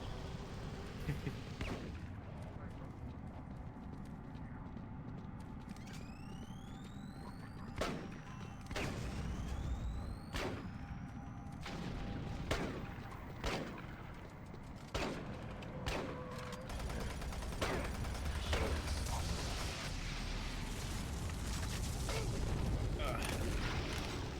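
Grenade blasts and gunfire from the video game Doom 3 boom repeatedly in sharp bursts over a rumbling game soundtrack, with a player talking throughout.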